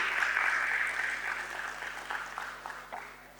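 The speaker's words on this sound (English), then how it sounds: "Let the claps be on, let the claps be on." Audience applause at an IPO listing ceremony at the BSE, a burst of clapping that starts strong and gradually thins out into scattered claps over a few seconds.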